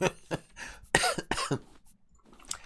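Several harsh coughs in quick succession, close and fairly loud, with a throat-clearing rasp between bursts and brief pauses.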